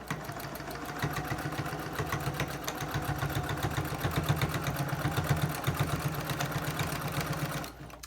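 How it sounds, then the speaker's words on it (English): Home sewing machine without zigzag stitching forward and back over elastic on a fabric face mask, a steady rapid mechanical chatter running for about seven seconds, close and fairly loud, stopping near the end. "I'm going to go front and back stitching because, again, I don't have a zigzag on my machine."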